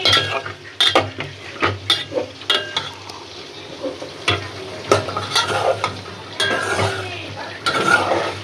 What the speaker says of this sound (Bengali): সুন্দর করে একটু কষাকষি করবো